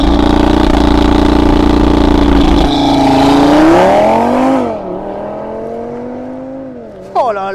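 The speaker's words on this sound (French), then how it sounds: "Donc là on va regarder un petit peu ce que ça donne en launch control" An Audi RS3 sedan launches hard using launch control, its engine roaring loud and close, rising in pitch through the revs and then an upshift before settling into a steadier climb.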